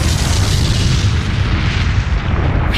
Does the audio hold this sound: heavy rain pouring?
no